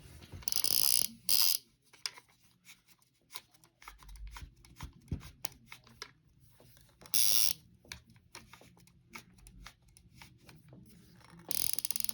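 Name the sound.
tightening the drag on a Shakespeare SC15 fishing reel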